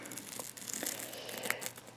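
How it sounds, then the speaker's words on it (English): Foundation paper torn and peeled away from quilt stitching along seam-ripper-perforated lines: close, quiet papery crinkling and tearing with small crackles, steady through the moment. "I get up under it and peel it off. And that's how you take the paper off."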